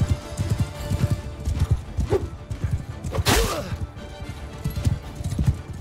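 A horse gallops in the Mount and Blade II Bannerlord video game, with steady rapid clip-clop hoofbeats throughout, a whinny partway through, and someone talking over the action.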